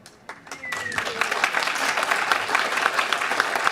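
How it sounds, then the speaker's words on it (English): A crowd at a town council meeting breaks into sustained applause after a brief pause, many hands clapping steadily, with a few voices mixed in. "And I'm going to clap"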